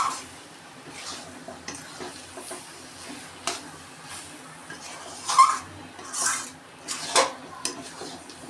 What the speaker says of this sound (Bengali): এখন এর মধ্যে দিয়ে দেব এক চামচ গরম মশলা গুঁড়ো দিয়ে ভালো করে নেড়ে